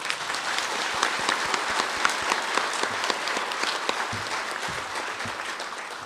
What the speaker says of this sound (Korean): 우리 요 대목에서 박수 한번 치고 넘어가요